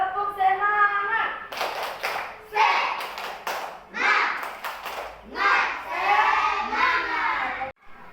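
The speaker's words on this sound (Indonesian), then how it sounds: "Tepuk semangat." An elementary class claps in unison in bursts of rhythmic spirit clapping, mixed with children chanting along, close and lively in a classroom.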